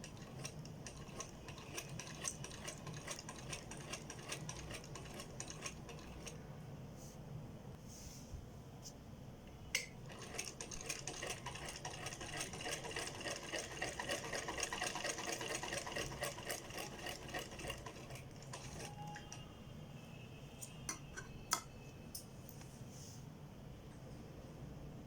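Sewing machine stitching the center seam of a pajama, quick rapid needle clatter in close bursts with short pauses between runs, fairly quiet and with no talk over it.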